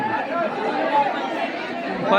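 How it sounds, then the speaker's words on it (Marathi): A dense crowd of devotees chatters steadily at the Dwarkadhish temple in Virar, with many overlapping voices close by in a continuous murmur. "आज रविवार असल्या कारणाने गर्दी तुफान"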